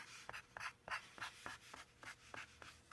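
A pen or pencil scratches short texture strokes across paper for an ocean in a seascape drawing, about a dozen quick rhythmic scrapes, close and quiet, with no talk.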